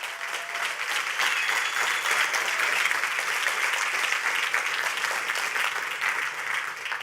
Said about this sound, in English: Let's have a round of applause for our sponsors.